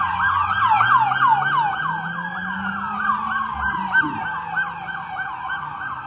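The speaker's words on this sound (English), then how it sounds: "here comes the fire department" A fire department brush truck siren wails in steady, rising-and-falling sweeps, loud and close, with a low engine rumble underneath.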